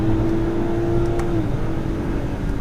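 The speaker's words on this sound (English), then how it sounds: "We'll pop it over into the manual mode and use the paddle shifters now. Just drop it a couple gears here." 2019 BMW X7 xDrive40i engine revving up after a paddle-shift downshift, a loud close steady drone with a rising then settling tone heard from inside the cabin.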